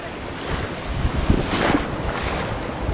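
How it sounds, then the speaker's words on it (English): Ocean surf crashes steadily at a beach where people paddle out to shark fish for blacktips, the roar swelling as a big wave breaks, loud and close under wind buffeting the microphone. "That's a big wave."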